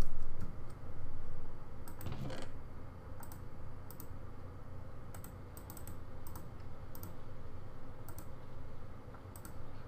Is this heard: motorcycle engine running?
no